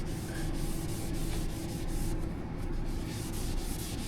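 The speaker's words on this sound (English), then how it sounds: "scrubbing it up here" A closet surface inside an RV bedroom is scrubbed to scuff it before priming, giving a steady, close, gritty rubbing that runs without break and with no speech.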